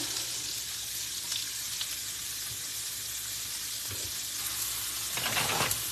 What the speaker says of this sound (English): And then I'm going to add in my onion.